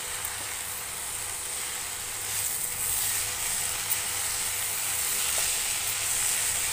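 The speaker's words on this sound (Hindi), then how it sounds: "लहसुन भी डाल देते हैं और इस सारे चीज़ों को डालकर मिक्स कर चला देते हैं।" Spices and garlic sizzling in a pan as they are stirred into saag, a steady close hiss of frying that holds evenly throughout, with faint scrapes underneath.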